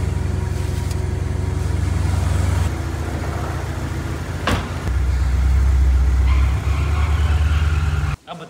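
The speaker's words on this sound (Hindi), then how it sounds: "ओ वाओ पोर्शे की आवाज ही अलग है ना" A modified Porsche sports car engine held at a loud, steady rev close by, with pitch shifts and a sharp blip midway, then cutting off abruptly at the end.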